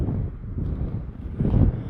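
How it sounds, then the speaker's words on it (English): Strong wind buffets the microphone in low, rumbling gusts at a high overlook on Arizona's Mogollon Rim, swelling louder near the end of the short clip. "It's very windy up here"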